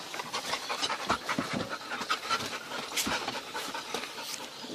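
Dogs panting rapidly and close up, a fast rhythmic run of breathy huffs that continues throughout with no talk.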